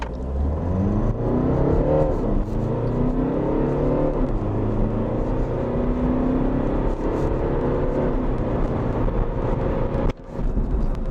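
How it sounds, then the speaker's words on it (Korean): A BMW 218d Gran Coupe diesel accelerating hard to 100 km/h in manual mode, its engine droning and climbing in pitch through several gear changes under steady road and cabin noise. "짧은 구간에서 시속 100km를 주파해내고 있습니다"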